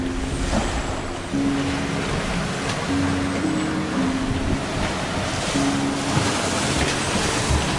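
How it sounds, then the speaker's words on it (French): Long sea swell waves striking the bow of the sailboat Black Lion off the coast of Tanzania in the Indian Ocean, steady wash and surging water with wind buffeting the microphone and low hull creaks throughout. "nous avons la houle pleine face, une houle longue,"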